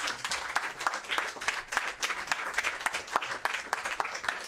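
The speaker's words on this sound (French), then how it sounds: "Vraiment beaucoup d'applaudissements pour le frère Kalouz." An audience claps at a Cheikh Anta Diop Day 2019 gathering, with a lively, uneven patter of many hands that holds steady throughout.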